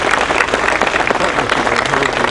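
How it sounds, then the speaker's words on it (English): An audience at a university groundbreaking ceremony claps for the architects, a dense, steady wash of many hands close by and fairly loud, with a murmur of voices mixed in throughout. "give you a round of applause"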